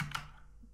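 A few quick keystrokes on a computer keyboard, faint and close, a short cluster of clicks tapering off.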